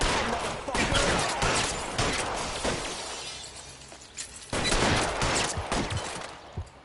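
Gunshots fired at a man in the video game LA Noire, two loud clusters of rapid shots with a shattering, breaking quality and a quieter pause between them.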